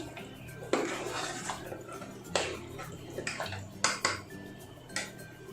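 Metal spoon scraping and clinking against a pan while mixing tinda with yogurt and water, in a few sharp bursts, with a low kitchen hum underneath.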